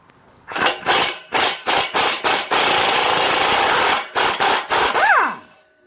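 A wrench works a 15 mm bolt under a 2005 Chrysler Pacifica near the gas tank: a quick series of loud, rasping bursts, then a sustained harsh run of several seconds, more short bursts and a brief rising squeal, close and alone.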